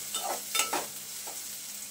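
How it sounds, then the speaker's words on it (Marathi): Onion frying in a pan until pink, heard as a short, quiet sizzle with a few soft stirring scrapes close by. "कांदा आपल्याला छान गुलाबी रंगावरती परतून घ्यायचा"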